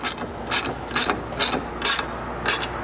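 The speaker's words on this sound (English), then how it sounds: "tighten things up with a 7/16 socket or wrench" A ratchet wrench with a 7/16 socket tightens bolts on a 270-degree awning mount, giving six short, crisp bursts of clicking at a steady, even rhythm, close and clear with no talking.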